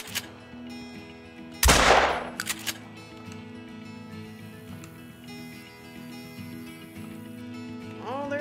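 A single loud shotgun blast from a 12 gauge Cacciatore in the hunting game Call of the Wild, a sharp broadband boom with a short tail and a couple of echoing cracks, over a steady outdoor ambience.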